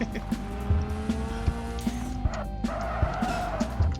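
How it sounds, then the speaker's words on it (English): Car tires squeal under hard braking on a test track in the Screw Drivers racing game, with a steady engine drone and sharp skid tones rising and falling over about four seconds. "I had to brake hard there to avoid going off the track"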